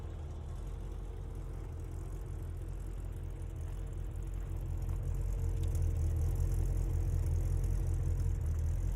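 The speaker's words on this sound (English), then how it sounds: "it's a very cool red color, and the engine sounds really good." A futuristic red car's engine runs at a steady low hum, a constant even drone with no speech over it.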